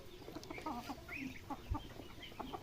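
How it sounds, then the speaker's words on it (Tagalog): Clucking from young chickens grown past the chick stage, a series of short bursts and murmurs at close range, with several birds calling over one another in a farm yard. "Manok na. Hindi na sisiw."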